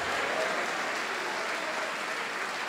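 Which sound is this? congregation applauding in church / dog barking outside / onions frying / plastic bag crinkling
congregation applauding in church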